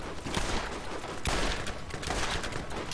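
Gunfire in the Borderlands video game, a dense, continuous fusillade of rapid shots with a sharper burst near the middle, steady and moderately loud throughout, with no talking.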